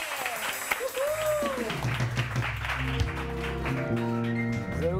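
A short burst of applause from a TV morning show studio audience rises beneath music and a voice, clapping steady for a few seconds.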